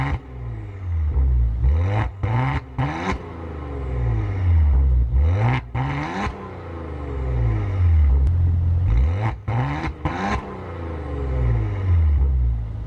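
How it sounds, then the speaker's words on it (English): A 2019 Maserati Levante GranSport's exhaust revs repeatedly, its engine note climbing and falling in several loud, close sweeps with brief pauses between throttle blips. "You got to hear the exhaust."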